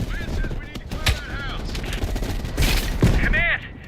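Rapid bursts of gunfire crackle in Call of Duty Black Ops Cold War, dense and continuous amid battle noise, with a voice speaking over the shooting.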